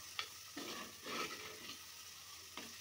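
Curry leaves frying for tempering in a clay pot over a medium flame while mutton curry is being cooked, a steady close sizzle with a few brief stirring scrapes.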